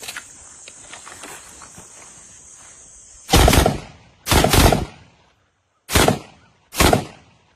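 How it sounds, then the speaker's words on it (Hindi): M4 .223 rifle fired rapidly outdoors: after a quiet stretch with faint insect chirps and small clicks, four loud, close, sharp bursts ring out about a second apart, each trailing off quickly. "थोड़ा सा हम इसको रैपिड फायर करके टेस्ट करते हैं जरा"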